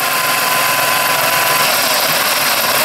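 A car engine idling steadily while an EGR solenoid is switched on, a loud continuous close-up hum with a slight dip in engine speed and no talking.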